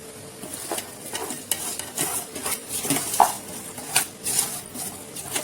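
About 1.5 kg of raw chicken is mixed with salt in a pot for kachya gosht dum biryani, making steady wet stirring with scraping and knocks against the pot. The sound is close and continuous, with no talk.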